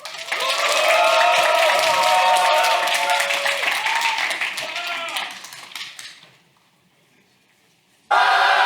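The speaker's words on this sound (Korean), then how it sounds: "큰 박수로 맞아주시기 바랍니다" A conference audience applauds warmly for a presenter at a public HRD contest final in Korea, a dense, sustained wash of clapping that fades out after about six seconds, followed by a brief silence before a voice begins.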